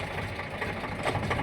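A tractor engine runs at a steady idle on a farm, a low continuous rumble with slight knocking throughout, close and moderately loud with no voices.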